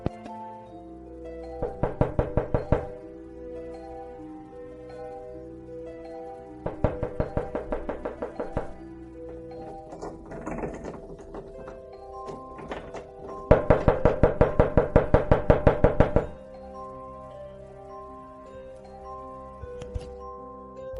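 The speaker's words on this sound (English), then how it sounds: "Is there someone knocking on the door and trying to open it constantly?" Knocking on a front door, sharp repeated thuds in several clustered bursts heard over a sustained musical background, fairly loud.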